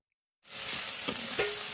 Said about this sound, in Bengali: তেল গরম হতেই দিয়ে দিলাম চিংড়ি মাছ